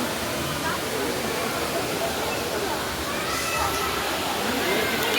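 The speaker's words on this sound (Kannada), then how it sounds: "ಮೇಲೆ ಫಾಲ್ಸ್ ಬೀಳ್ತಿದೆ ಅದರಲ್ಲೂ ನೋಡಿ" A waterfall in Coimbatore pours from above in a continuous, even rush of broadband hiss, close and steady throughout, with faint voices around it.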